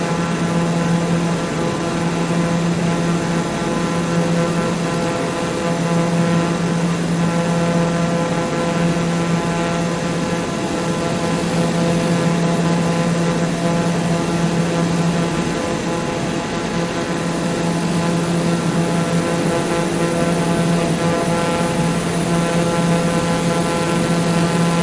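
Propeller aircraft on final approach to land in Microsoft Flight Simulator 2020, a steady loud propeller drone with a constant engine hum throughout, no speech.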